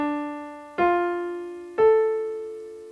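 A minor chord played on a keyboard-like instrument, struck three times in a slow, even rhythm, each strike ringing and decaying before the next, clear and alone.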